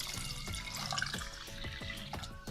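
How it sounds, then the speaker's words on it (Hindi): Water being poured into mashed masoor lentils in a cooking pot while making dal with tarka, a steady liquid splashing and trickling held close and fairly loud for a couple of seconds, with rhythmic low thuds beneath. "देखिए अब मैं पानी और डालने लगी"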